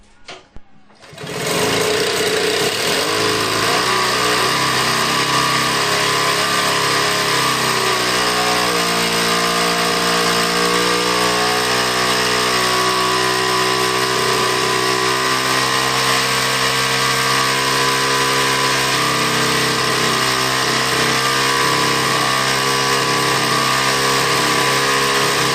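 A restored Cyclemaster engine catches after priming and settles into a loud, continuous buzzing run, its pitch shifting slightly as it idles and revs for over twenty seconds, with no talking.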